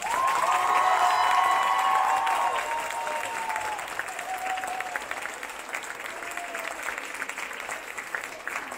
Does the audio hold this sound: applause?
yes